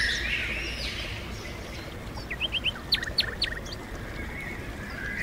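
Several birds chirp and tweet in short, bright bursts beside a river, while the water rushes as a constant wash of noise underneath.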